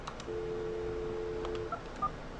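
A VoIP desk phone dials out, a quick string of telephone keypad tones: one long steady tone followed by several short beeps, clear and close with no talk.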